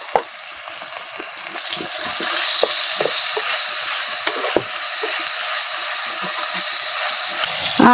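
Chopped tomatoes frying with ginger-garlic paste in a pan for a small-fish tamarind curry, with a loud continuous sizzle and frequent scraping clicks of stirring, close up and without talk.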